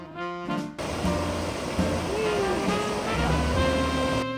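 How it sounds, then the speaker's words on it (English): Artificial river surfing wave on the Boise River at Boise's River Park, a steady broadband rush of churning water that stays close and fairly loud throughout, with a brief tonal passage at the very start. "Boise's River Park is one of the top artificial river surfing waves in the country."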